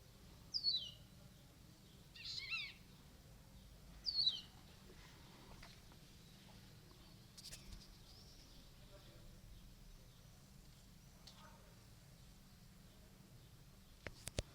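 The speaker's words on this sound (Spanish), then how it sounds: "Hermosos pájaros cantan allí esta mañana." Faint, scattered bird chirps on a morning street near old military barracks on Calle Luneta in Tetouan, Morocco. A few short calls ring out early over a low, steady background hum, followed by quieter distant sounds.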